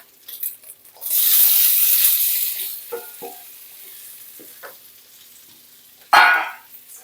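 Pumpkin tossed into a hot pan for a stir-fry with egg gives a loud burst of sizzling that fades, followed by scattered clinks of a spatula stirring and one sharp final scrape-and-sizzle, no voices.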